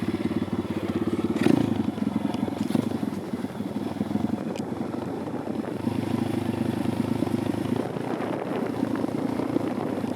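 Dirt bike engine running nearby, a loud, buzzy, rapid putter that revs up and eases off over several seconds, steady and close throughout.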